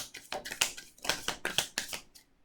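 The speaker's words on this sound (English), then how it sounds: "One more shuffle here." A deck of tarot cards is shuffled close up in several quick riffling bursts, crisp papery flutters repeating in a rapid uneven rhythm, quiet and alone.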